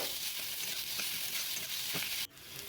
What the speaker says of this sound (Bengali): পেঁয়াজগুলো একটু ভালো করে ভেজে নেব লাল লাল করে